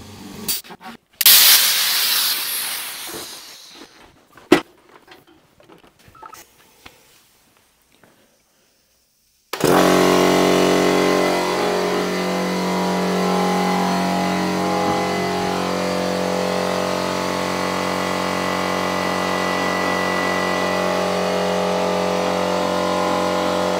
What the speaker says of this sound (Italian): questo è l'impatto della mia voce rispetto al rumore del compressore